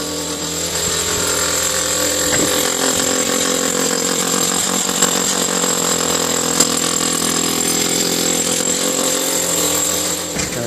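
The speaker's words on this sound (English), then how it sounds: "We're drilling the foundation." A drill bores into a house foundation during termite treatment, a loud continuous grinding whine that holds steady for about ten seconds with no talk over it.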